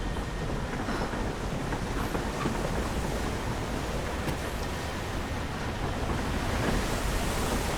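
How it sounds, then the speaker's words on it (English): Steady, dense rush of falling water from a waterfall in Rise of the Tomb Raider's Wicked Vale, a constant broadband roar filling the whole clip with no pauses and no voices. "And the waterfall here,"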